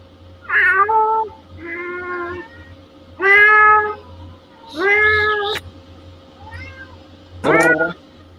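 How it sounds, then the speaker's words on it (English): A domestic cat meows loudly and repeatedly nearby, five or six separate plaintive calls spaced by short pauses, with a quiet low hum underneath. "That's my cat."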